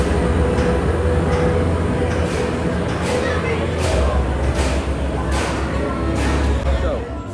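Mako roller coaster rumbles along its track from the front row, a loud, continuous mechanical roar with rhythmic clacks and wind rush throughout.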